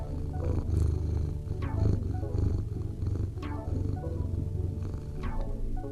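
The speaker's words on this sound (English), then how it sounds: "I got a kitty in my lap." Fluffy, a pet cat, purrs while curled in a lap, a steady low rumbling purr running continuously with small shifts in loudness, close and alone with no talking.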